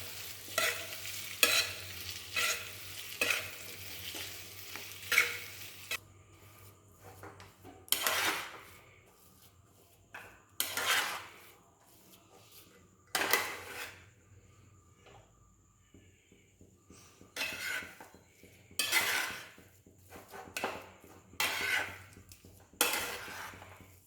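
A chilli and garam masala mixture being stirred with a spoon in a pan, a burst of quick clinks and scrapes followed by separate bursts of scraping and clatter with quiet gaps between.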